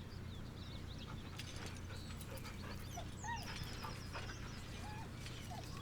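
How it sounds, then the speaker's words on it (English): In Baldur's Gate 3, a dog whimpers nervously, giving soft, high whines and little yelps over a low, steady ambient drone, fairly quiet and close. "The dog whimpers nervously"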